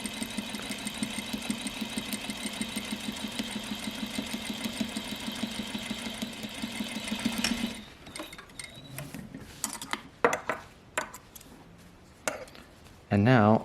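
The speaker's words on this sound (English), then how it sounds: "And now I'm sewing a 1/4 of an inch away." A sewing machine runs a steady, close rattling drone for several seconds, topstitching a quarter inch from a seam to make a mock flat fell seam, then stops and gives way to scattered clicks and small handling noises.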